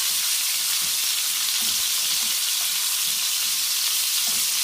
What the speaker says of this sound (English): because I've got a good pan, so the fish is not really sticking, therefore it's not going to use a lot of oil